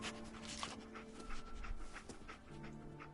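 The dog Dogmeat in the video game Fallout 4 pants in quick, quiet breaths against a faint ambient background, with no speech.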